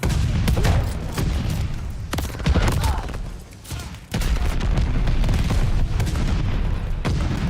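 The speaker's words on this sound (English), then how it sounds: "Hostile bombers inbound. Mortars incoming." Mortar and bomber strike explosions in Call of Duty Vanguard roll in as dense, loud booms and rumbling blasts layered over continuous gunfire, with a short dip partway through before the barrage resumes.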